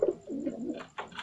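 Pigeons coo close by in a loft as a female that just laid eggs is paired with a male: low, throaty rolling coos that repeat in quick succession, with no talk over them.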